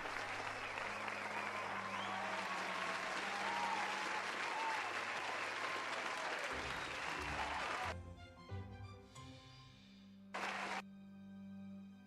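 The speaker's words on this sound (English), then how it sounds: "Applause." Dense applause from a crowd, loud and continuous for several seconds, then breaking off into scattered sounds and a brief final burst.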